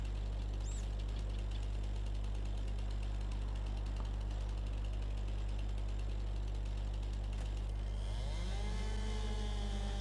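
A chainsaw cutting trees in Farming Simulator 22 on an Xbox One S drones steadily at close range, then revs up with a rising whine near the end.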